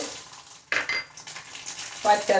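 Mustard seeds dropped into hot oil for an idichakka (jackfruit) sambar give a soft sizzle with scattered crackles, along with the close clink of a metal utensil against the pan.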